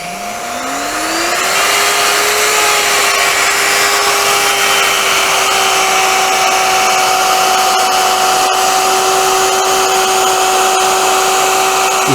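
Power tool cutting a groove in wood with a dust extractor running, spinning up over the first second or two into a loud, steady high whine that holds unbroken and close, with no talking.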